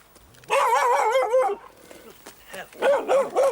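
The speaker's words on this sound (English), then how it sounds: "that's an attack dog, that is" A dog barks and whines in sharp, wavering bursts at close range, with a brief pause before a second run of yelps, and speech mixed in.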